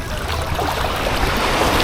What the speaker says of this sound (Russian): Такая волна красивая, да? Такой шум моря.